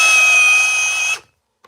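A Ryobi power tool runs under load with a loud, high, steady whine for just over a second before cutting out abruptly, followed by silence and a faint click.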